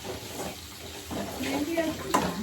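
Meat, chicken for a pepper chicken dish, frying in a pan in a home kitchen makes a steady, soft sizzling hiss that runs beneath people talking nearby.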